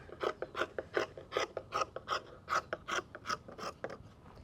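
Fiberglass strip being cut with scissors for a hull axe build: a fast, close series of crisp snipping crunches, about a dozen evenly spaced cuts in quick rhythm.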